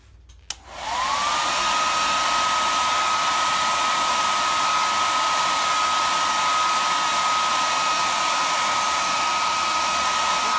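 A heat tool blows steadily to dry chalk paste on a lantern, starting with a click and then holding a loud, continuous whir with a high whine throughout.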